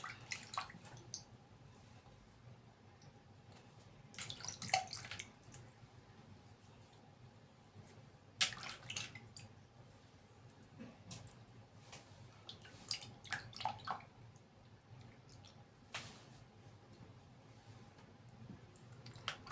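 Water splashing and dripping while a multani mitti face mask is rinsed off the face, heard as close, intermittent bursts of splashing and trickling separated by quieter stretches, with no talking.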